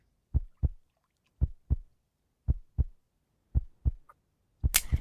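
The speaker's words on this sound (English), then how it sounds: "I hear the heartbeat again." Slow, steady heartbeat in doubled thumps, lub-dub pairs repeating about once a second, deep and close against near silence, with a brief louder rush of noise at the very end.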